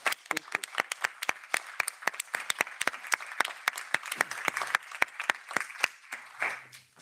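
Audience applause at a talk on the pet trade, a sparse, fairly quiet run of distinct individual claps at a loose uneven rhythm, as if from a small group, fading toward the end.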